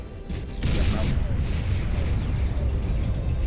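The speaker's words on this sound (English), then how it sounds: "flashbang you there with that nuke that collided in midair" A nuclear blast in the strategy game Beyond All Reason, a nuke colliding in midair, roars as a loud, dense low rumble that swells after a brief onset and sustains throughout, with a voice talking over it.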